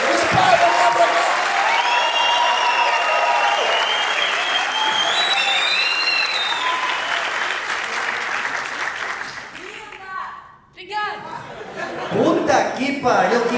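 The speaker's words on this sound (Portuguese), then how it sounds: "Então, uma salva de palmas para a nossa primeira fritadora da noite." A comedy roast audience applauds the first roaster of the night with loud, sustained clapping and cheering mixed with chatter, then the clapping fades as voices and laughter take over.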